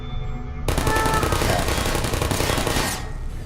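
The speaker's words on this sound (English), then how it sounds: "I always get hit by turrets" Turret machine gun fire in the video game Portal, a sudden loud continuous rattling burst lasting a little over two seconds before cutting off abruptly.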